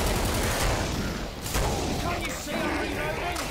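Gunfire in the video game Killing Floor comes as a dense, loud stream of overlapping shots. It runs almost without pause through the whole moment, with slight dips between bursts.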